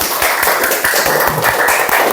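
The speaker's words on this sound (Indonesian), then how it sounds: "Boleh tepuk tangan yang meriah?" Lively applause from pupils in a classroom, a dense patter of many hands clapping steadily and close, lasting the whole moment without talk.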